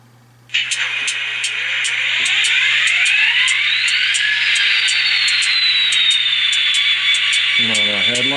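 An N scale SD45 model locomotive fitted with an ESU LokSound decoder starts up suddenly into a loud, rising diesel whine that settles to a steady roar, with regular rhythmic ticks and a brief horn-like tone near the end.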